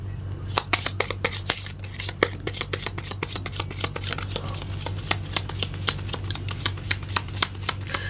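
A deck of tarot cards is shuffled and drawn by hand, giving close, rapid riffling and flicking snaps in irregular bursts over a low steady hum.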